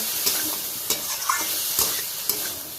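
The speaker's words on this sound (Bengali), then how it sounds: "আমি এখানে হলুদ আর গুঁড়ো লঙ্কার একটা মিশ্রণ তৈরি করে রেখেছি সেটাই অ্যাড করব আবারও ভালো করে কষিয়ে নেব সব উপকরণগুলো" A turmeric and chili powder mixture is sautéed in a pan for a rohu fish curry with potato and onion greens, giving a soft close sizzle under repeated scraping strokes of a spatula.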